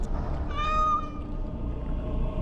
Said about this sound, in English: You seem rather attached to that cat, Anders.